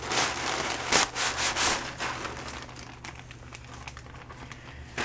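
A package being opened by hand, with steady crinkling and rubbing of packaging plus a few louder rustles, faint and close, with no talking over it.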